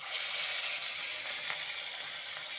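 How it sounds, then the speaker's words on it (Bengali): A pomfret fish fries in hot refined white oil in a wok, giving a loud, continuous hiss of sizzling that stays close and steady with no talking. "তেলটা গরম হয়ে গেছে, এখন আমি মাছটা ছেড়ে দিচ্ছি"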